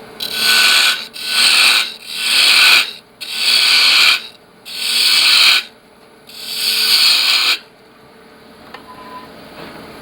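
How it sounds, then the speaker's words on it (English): A half-inch spindle gouge roughing the wooden blank of a pepper mill on a lathe, heard as six loud, rasping cutting passes of about a second each, separated by short gaps, before the workshop goes quiet. "So we come in, I go to a bigger 1/2-inch spindle gouge."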